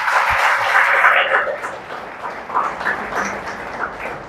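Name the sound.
loud applause for the speaker's mother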